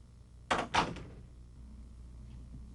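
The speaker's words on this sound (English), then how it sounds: "Close the door." An indoor door swings shut with two quick solid thuds in succession, close and fairly loud, followed by quiet room tone.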